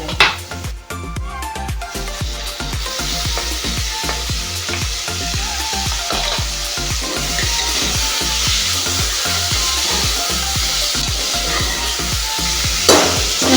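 Onion and whole spices fry in a pan for prawn rice. A loud, close, steady sizzle runs throughout, with the rough scraping of a spatula stirring and a louder scrape near the end.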